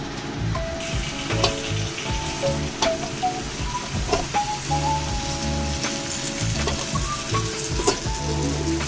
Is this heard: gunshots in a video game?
no